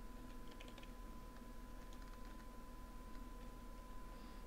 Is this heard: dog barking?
no